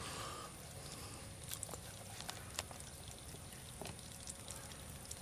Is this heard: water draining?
yes